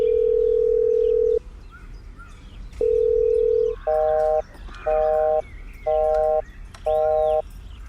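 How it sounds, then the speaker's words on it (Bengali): Ringback tone of a call placed to a mobile phone that goes unanswered: a long steady electronic tone, a pause, then a run of short pulsed tones, clear and alone. "তিনিও বেশ কয়েকবার ফোন করেন ললিতের মোবাইলে, কিন্তু রিং হয়ে হয়ে বন্ধ হয়ে যায়"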